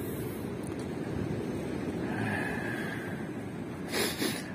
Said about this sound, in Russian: Море, слышите?